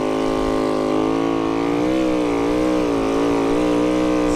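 Snowbike engine revving hard while climbing a steep Black Diamond slope over fresh snow, a loud, close, continuous motor whine whose pitch dips and rises as the throttle changes, heard alone without talk.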